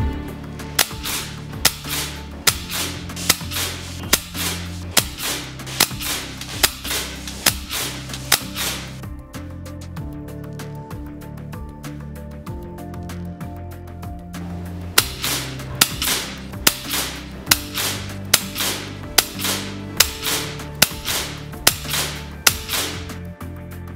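An FX Impact X MKII Compact .30 caliber PCP air rifle fires repeated sharp cracks at a range, one shot every second or so in two long runs separated by a short pause, loud and close over background music.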